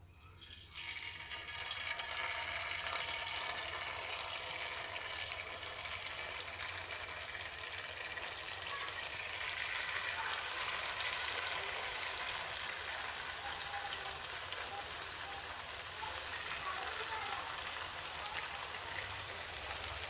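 Jalebi batter sizzles in hot oil, a dense, steady hiss and crackle that holds the whole stretch without talking.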